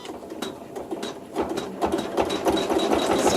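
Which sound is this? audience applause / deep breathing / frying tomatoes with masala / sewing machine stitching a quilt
sewing machine stitching a quilt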